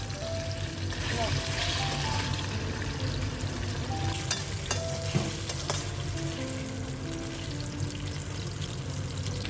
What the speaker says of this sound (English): Heat oil in the wok, saute garlic until fragrant, then add the jelly pieces and stir fry until lightly golden.